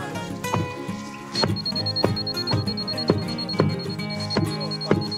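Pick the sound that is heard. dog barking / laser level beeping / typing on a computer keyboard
laser level beeping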